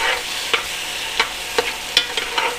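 A spoon scrapes and stirs tomato paste cooking down in hot olive oil in a pot for Louisiana catfish courtbouillon, giving a handful of distinct scraping strokes over a steady low sizzle, close and with no talking.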